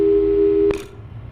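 A telephone busy signal from the video game Portal 2 repeats as a loud steady tone, cutting off abruptly near the end and leaving faint background noise.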